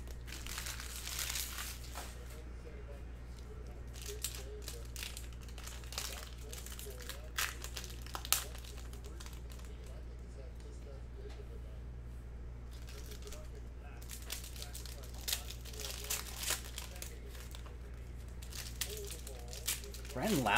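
2020 Topps Chrome baseball card packs are torn open by hand, giving faint, intermittent crinkling and tearing foil-wrapper sounds in short bursts close to the microphone, with someone talking at times.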